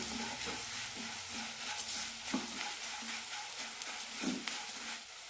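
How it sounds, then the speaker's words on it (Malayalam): Roasted rava sautéed in a pan with oil, a soft continuous sizzle under repeated scraping stir strokes at a steady rhythm, close and fairly quiet, with no talking. "നന്നായി വഴറ്റാം"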